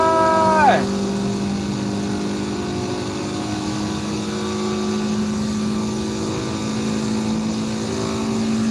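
Mazda Miata race car engine in the Forza Motorsport 7 racing game, a steady droning engine tone holding at constant revs throughout, with a brief pitch drop near the start, moderately loud under faint game ambience.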